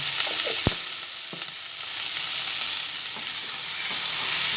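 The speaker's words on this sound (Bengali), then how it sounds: "আবার একটু ভালোভাবে নাড়াচাড়া করে নিই" Bottle gourd peel curry mixture for kopta curry sizzles steadily in a pan while it is stirred, with a few sharp spoon scrapes and clicks over a continuous close, even frying hiss.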